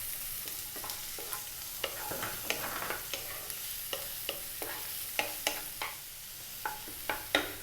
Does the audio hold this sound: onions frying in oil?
yes